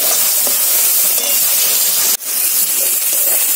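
Tomatoes frying in a pan, a loud steady hiss and sizzle close by, continuous throughout with one brief dip midway.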